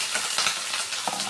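Shallots, garlic and ginger fry in a pan, giving a soft, steady sizzle with a few faint stirring scrapes, quiet and close, with no voices.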